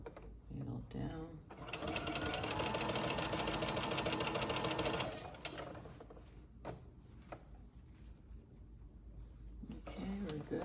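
A sewing machine stitches a toddler romper in a steady rapid whir that runs loud for several seconds and then stops, with someone talking quietly around the stitching.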